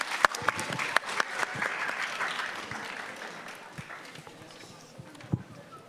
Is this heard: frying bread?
no